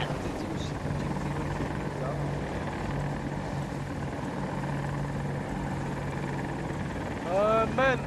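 An AH-64 Apache attack helicopter in a military video game drones with a steady rotor and engine roar throughout, while players talk over it.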